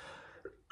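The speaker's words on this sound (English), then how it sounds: "Like that's a normal cough." A single ordinary human cough, short and soft, trails off into quiet, followed by a brief sharp burst at the very end.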